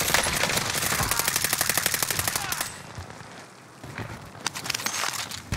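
AUG rifle fire on Rebirth Island in Call of Duty Warzone: long, fast automatic bursts of evenly spaced shots rattle loudly, pause briefly, then resume in shorter volleys, with no talking.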